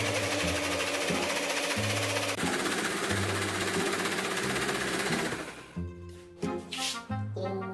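A kitchen mixer or blender grinds ingredients together in a loud, steady whirring drone that cuts out partway through, leaving brief rattles and clatter.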